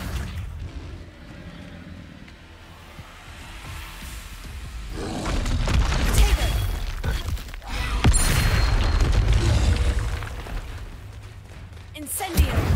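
Spells cast in Hogwarts Legacy burst into loud booming explosions and roaring blasts midway through, following a quieter stretch, with a player's voice heard over the action.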